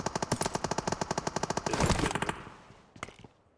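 Automatic gunfire in PUBG Mobile fires in a rapid, even burst of about twenty loud shots, then fades into a brief rumble, followed by a couple of fainter, more distant shots.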